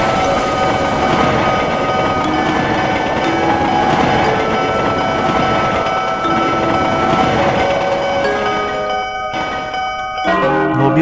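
A train rolls steadily past at close range in a fire-truck-on-the-tracks incident, with dense broadband rumble and sustained horn-like tones running throughout; the noise cuts abruptly near the end.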